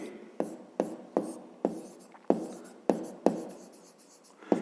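A pen writes a math answer by hand on paper in a row of about eight crisp, evenly spaced strokes, each a sharp scratch that quickly fades, close and quiet with no voice.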